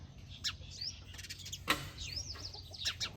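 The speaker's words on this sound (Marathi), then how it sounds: "चिमण्याचा कलकलट कलकलट चाललाय मित्रांनो" Sparrows chirp around a house, with a few sharp, fairly faint tweets scattered over a low steady background hum.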